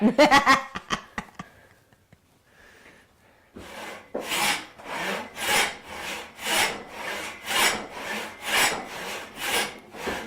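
A hand saw resaws a wooden beam in steady back-and-forth strokes, loud and close, each pass a rasping rub through the wood, following a few sharp knocks and a short quiet pause.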